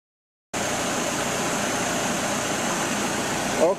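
A 2002 Dodge Neon engine idles steadily, a constant even hum and hiss starting abruptly and running without change, close and alone.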